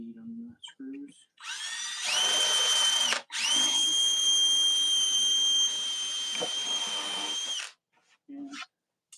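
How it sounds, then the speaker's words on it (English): A power drill with a worn bit drives into wood, giving a loud, high whine that runs for about six seconds with a brief pause and a change in pitch, with short bits of talk before and after. "this drill bit's kind of wore out, so it might be taking a little extra to do it"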